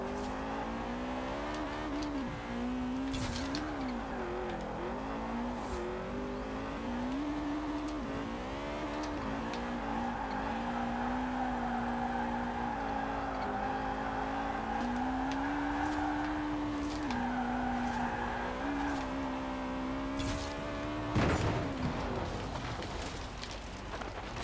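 An Opel Kadett A on drag tyres drives steadily in Forza Horizon 4, its engine droning and shifting pitch as it rises and falls through corners, with a brief burst near the end.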